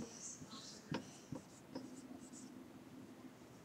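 A marker or chalk scratches across a classroom board while solving math, with short taps and strokes in quick succession, faint and close, over a low hum.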